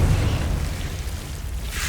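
A Confringo blasting spell goes off in Hogwarts Legacy, a dense, rumbling burst of noise with heavy low boom that holds steady for a couple of seconds and stays close and loud.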